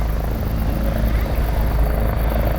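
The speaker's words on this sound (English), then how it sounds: "Got a helicopter in there somewhere." A helicopter's steady rotor thrum and engine drone fill the air continuously over a mountain bike race at Les Orres, moderately loud and unchanging throughout.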